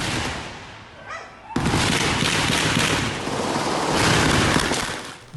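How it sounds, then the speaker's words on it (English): Gunmen fire a rapid burst of shots on a street in Spanish Town, St. Catherine, loud and harsh. A brief lull follows, then a dense, sustained roar of continuous gunfire. "Gunfire ringing out on Marchben Road in Spanish Town, St. Catherine this morning"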